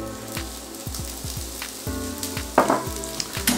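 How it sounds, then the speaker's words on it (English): Sliced onions fry in hot olive oil, a close, dense sizzle with rhythmic low knocks and scrapes from stirring, then a louder burst of crackling toward the end. "We're gonna throw in some sliced up onions"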